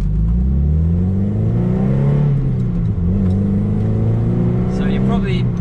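Toyota MR2 Roadster engine fitted with a stiffer rear motor mount, heard from inside the car as it accelerates hard through the gears, with loud rising engine tones and a loud, steady drone throughout.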